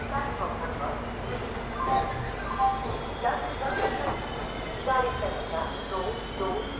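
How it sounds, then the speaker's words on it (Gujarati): A goods train rolls into platforms 4 and 5 of a station, its wagons rumbling and clanking with occasional wheel squeals, moderately distant and steady. "આપણા પ્લેટફોર્મ નંબર 4 અને 5 ઉપર ગુડ્સ ટ્રેન આવી ગઈ છે"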